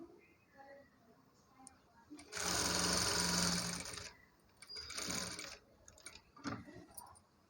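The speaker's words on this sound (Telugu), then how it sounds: "ఇలా తిప్పుకుంటూ ఒక టాప్ స్టిచ్ వేసుకుంటూ రావాలి" A sewing machine runs a top stitch along blouse cloth in a loud, near burst of about two seconds, then shorter, softer runs as the fabric is turned, with light clicks between.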